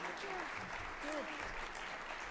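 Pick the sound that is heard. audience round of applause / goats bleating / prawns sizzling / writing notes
audience round of applause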